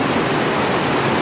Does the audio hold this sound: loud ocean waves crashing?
yes